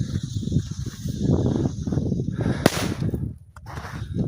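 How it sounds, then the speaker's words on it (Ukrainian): A Magic Time Helium P1217 firecracker goes off outdoors with one sharp crack partway through, followed by brief fizzing, over a steady background of wind rumble. "петарду Helium P1217. Так от і сюди поставимо. P1217 Helium. Magic Time."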